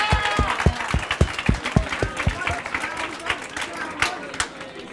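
Audience at a poetry slam applauding after a round, sharp individual claps ringing out near the front over a broader crowd patter and murmuring, the clapping strongest early then thinning into scattered claps and chatter.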